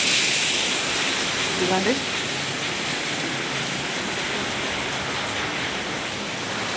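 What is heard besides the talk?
rainwater leaking and dripping through a house roof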